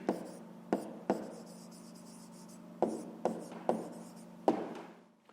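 A pen scratches out an answer to a fifth-grade fraction exercise, with short strokes and sharp taps in an uneven rhythm, close and fairly quiet.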